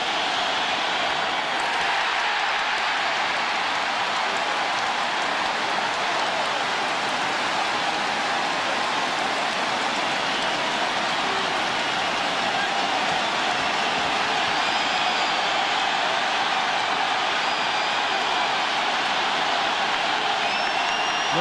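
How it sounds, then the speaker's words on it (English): A basketball arena crowd roars loudly during a foul shot in a 2005 Spurs playoff game, a dense, sustained wall of screaming and cheering that holds steady and swells slightly toward the end. "With the crowd screaming, he makes 1 out of 2"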